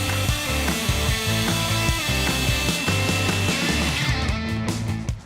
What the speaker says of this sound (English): with the circular saw to get the groove right